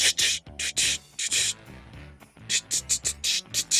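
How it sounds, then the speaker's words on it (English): A spray can lays a protective coat over painted mugs in a string of short, loud hissing bursts, some quick and clustered, with faint music running underneath. "only spray at the parts that you painted, and be gentle"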